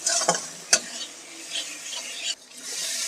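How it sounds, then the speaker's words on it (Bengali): A spice paste with cumin and coriander powder sautés in a pan, stirred with a few sharp scrapes and clacks over a soft, close sizzle, with no voices. "একটু ভালোভাবে কষে তারপর আলুটা দিয়ে দেবো"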